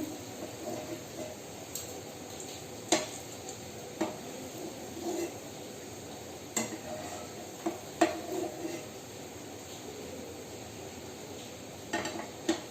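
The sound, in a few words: fried langcha sweets lifted out of the pan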